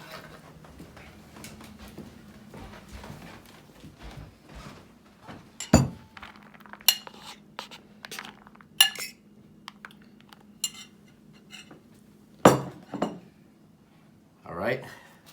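Beef and shrimp fried rice with veggies is stir-fried over high heat in a pan, giving a faint steady sizzle punctuated by sharp clanks and scrapes of a utensil against metal, with someone talking intermittently.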